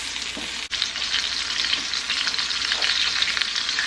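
Onions and mushrooms fry in a pan while gravy is made, a loud, dense, continuous sizzle with a brief dip early on, close up and with no talking.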